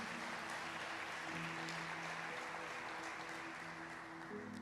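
A church congregation applauds during a family worship service, a dense, continuous wash of clapping held at an even level, with sustained musical tones beneath it.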